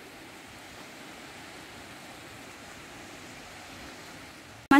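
The Véu de Noiva waterfall in Vila Maromba, Rio de Janeiro, gives a steady, even rushing hiss of water, heard alone from a moderate distance, with a sharp knock at the very end.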